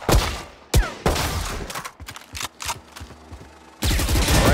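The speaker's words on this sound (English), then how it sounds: "Now shoot that flying target for me." Video game gunfire at flying targets and bots on a training course: loud bursts of rapid shots with separate single cracks and gaps between volleys, close and punchy, no talking.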